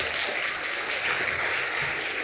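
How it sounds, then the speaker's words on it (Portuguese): Audience applause for an orchestra and conductor at a family concert, steady sustained clapping from a large crowd at even loudness throughout. "Um grande aplauso para a orquestra e para o maestro."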